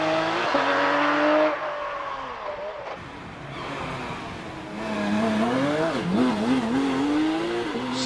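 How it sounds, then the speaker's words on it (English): A Porsche 911 RSR race car at the Prescott hill climb, a loud nearby engine drone that rises and falls as it revs and shifts, with tire noise and a faint voice in the background. "Up to the line now, 109 Paul Howells in the 911 RSR"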